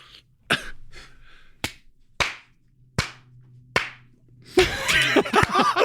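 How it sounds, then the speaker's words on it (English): Sharp, isolated single hand claps ring out one at a time with pauses between in a large auditorium, followed by a louder burst of clapping and noise. "Just one clap in the back of a large auditorium"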